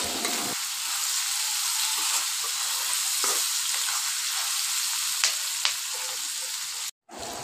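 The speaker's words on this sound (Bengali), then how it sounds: "সেটাতেই আমি পেঁয়াজগুলা দিয়ে দিচ্ছি আর পেঁয়াজগুলা ভালোভাবে ভেজে নিব" Onions frying in oil left over from frying meat crackle with a loud, dense sizzle throughout, with a couple of small utensil taps before the sound cuts out briefly near the end.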